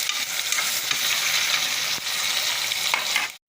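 Tomatoes and vegetables sauté in a pan for homemade sambar, giving a steady bright sizzle with occasional stirring scrapes, close and continuous, before stopping abruptly at the end.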